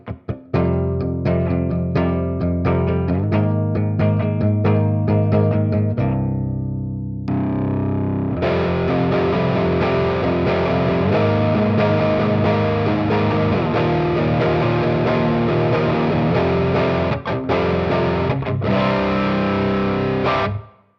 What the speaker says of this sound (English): This Mosky pedal is based on the Hamida Zendrive